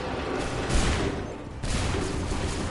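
Musket volley gunfire in the Assassin's Creed 3 video game: dense, continuous crackling bursts of several muskets firing together, loud and close, with a brief dip before another rolling volley.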